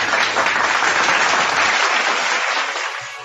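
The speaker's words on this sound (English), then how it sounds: "a round of applause for our speaker" An audience at a motivational seminar applauds the speaker, a loud, dense burst of clapping that holds steady and then tapers off at the end.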